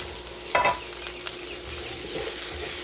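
Bacon fried rice with apples sizzles steadily in a pan over direct heat, a close, even frying hiss with a brief scrape of stirring near the start and no talking.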